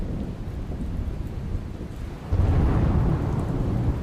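Heavy monsoon rain pours in Gir Somnath, Gujarat, a constant roar of falling water with deep thunder rumbling underneath that swells louder halfway through, with no voices.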